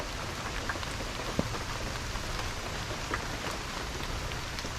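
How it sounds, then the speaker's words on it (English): Steady rain drums on a roof, a dense even patter with occasional sharper drops, continuous and fairly loud, no voices. "Do you hear it hitting the roof? It's actually raining"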